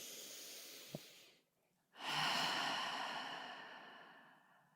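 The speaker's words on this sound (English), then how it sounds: "Taking a deep breath." A single deep breath drawn in, a soft airy inhale that fades to a brief pause, followed by a long, loud exhale that trails off slowly, close to the microphone with no talking.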